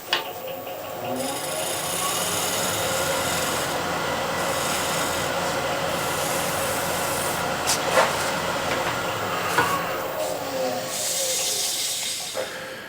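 Negative rake scraper dragged across a metal surface, giving a steady, close rasping scrape that runs almost without pause, with a few sharper clicks and catches along the way.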